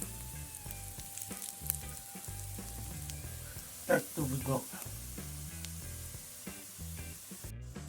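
Sulphur shelf mushroom and eggs sizzle and crackle steadily in a hot pan, with a brief burst of clatter midway and a quiet voice speaking over it.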